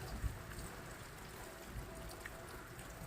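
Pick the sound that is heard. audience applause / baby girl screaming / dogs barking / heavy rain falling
heavy rain falling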